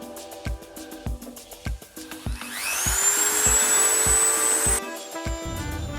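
A Dremel rotary tool whines in a rising high-pitched burst as it cuts a hole for a 3D-printed funnel on a Honda Dax 125, between a series of sharp close knocks.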